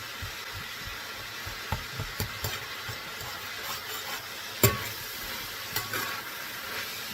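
Minced garlic and meat sauce stirred in a pot, a low simmering sizzle broken by scattered soft scrapes and a sharper knock near the end, with no talking.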